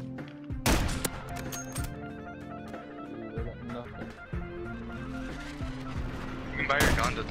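Sniper fire in the video game Call of Duty Warzone: a few sharp, loud gunshot cracks, one early and one near the end, over steady game sounds and music.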